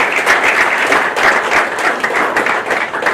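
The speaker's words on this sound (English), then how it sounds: "So big round of applause for Sean Jeffers." Audience at a Section V baseball finalist luncheon breaks into steady, dense applause, many hands clapping continuously and loudly throughout with no talk over it.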